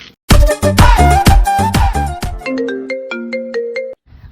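A telephone rings loudly for an outgoing call in a comedy sketch, as a caller dials a helpline number. A melodic ringtone phrase is followed by a run of evenly spaced repeating electronic tones, with nothing else heard.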